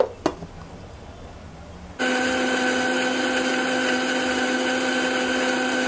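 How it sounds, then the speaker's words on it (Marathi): Kitchen mixer grinder grinding tomato, coconut, garlic and turmeric into curry masala: after a quiet start with a clack, the motor starts abruptly into a loud, steady, high whine that runs to the end, with no talk. "आणि आता मिक्सरला आपण बारीक हा वाटून घेऊया."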